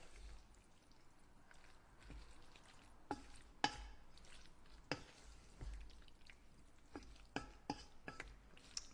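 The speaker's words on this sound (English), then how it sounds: "So I'm going to stir this up just a little bit." Butternut squash and fresh corn get stirred in a pot, soft wet squishes and occasional spoon knocks against the side coming in irregular bursts, quiet and close, with no talking.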